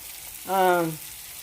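Tilapia fries in a pan with a steady close hiss of sizzling oil, briefly overlaid by a short humming tone in the middle.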